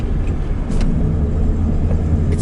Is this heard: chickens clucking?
no